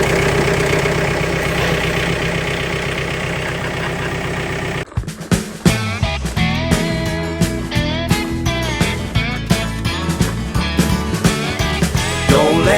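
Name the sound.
tractor engine idling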